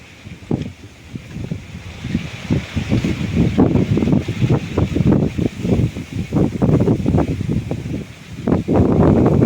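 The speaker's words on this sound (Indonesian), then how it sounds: "Namun sayang sekali angin cukup besar" Strong wind sweeps over a newly asphalted coastal road at Pandansimo, Yogyakarta. Loud, rumbling gusts buffet the microphone in uneven bursts for several seconds, with no talking.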